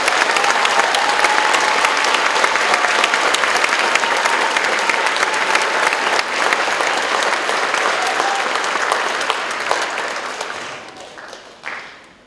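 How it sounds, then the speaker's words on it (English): Concert audience applauds eighth grade orchestra students at a school performance: a full, sustained burst of clapping from many hands that gradually tapers off over its final seconds. "So can we give a round of applause to the 8th graders?"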